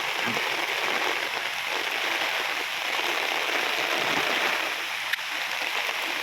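Rain falls in a steady, even hiss for the whole stretch, close and constant, with one brief sharp tap near the end.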